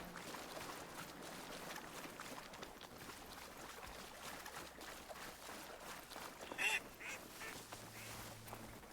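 A duck quacks in Horizon Forbidden West, a brief burst over steady game ambience and a low hum, with no one talking.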